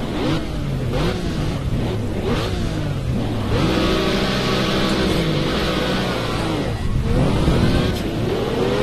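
A racing car engine in a video game roars loudly and continuously on a dark, wet track, pitch climbing and dropping through repeated gear changes as it revs hard.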